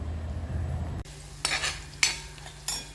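A phodni tempering sizzles steadily in a pan with onion and garlic, then gives way to three sharp bursts of stirring and scraping against the metal, with no voices.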